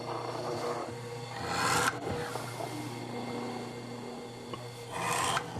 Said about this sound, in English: now I've got to drill this side